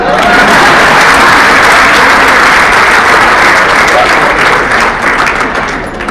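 Sustained applause from a live audience, steady and loud throughout, with crowd noise mixed in and a slight fade near the end.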